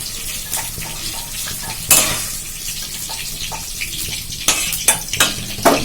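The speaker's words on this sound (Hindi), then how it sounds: "इसी में लगातार चला के भून रही हूँ" Green chillies sizzle and fry in oil in a pan, with steady crackling and occasional scraping clatter from stirring, close and fairly loud without talk.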